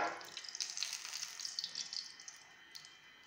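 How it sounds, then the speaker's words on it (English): Groundnut oil is poured into a pan for frying egg sauce, giving a soft, steady trickling stream that tapers off after about two seconds, faint and close with no talk. "We'll pour our oil now."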